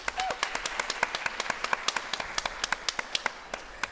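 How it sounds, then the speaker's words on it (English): Rapid, scattered hand claps from a group, a crisp burst of applause that stays steady throughout, with voices murmuring underneath. "Please give me a round of applause for Swati Narayan."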